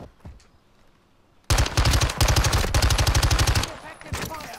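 An SMG fires in Call of Duty: Modern Warfare, a loud, rapid burst that carries on for about two seconds after a quiet start. A shorter burst follows, and a voice is heard briefly near the beginning.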